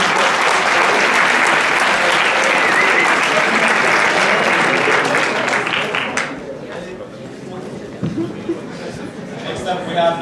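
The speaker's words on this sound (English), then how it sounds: "Let's give a huge round of applause for the winning team" Loud applause from an audience at a hackathon closing ceremony for the winning team, dense clapping for about six seconds before thinning out and fading under lighter crowd noise.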